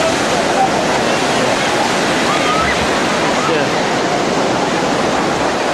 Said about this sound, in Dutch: Staat er allemaal branding af.